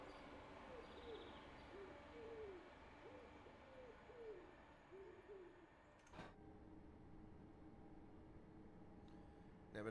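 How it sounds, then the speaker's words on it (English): Near a railway line, an owl hoots in daytime, giving a soft series of low, repeated hoots at a moderate distance over steady background rumble, followed by a brief knock and quieter ambience. "Never known owls to make sounds in the daytime. It does sound like an owl."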